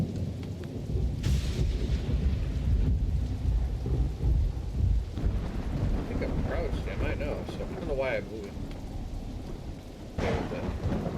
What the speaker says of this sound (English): God, that storm sounds so good in my head right now.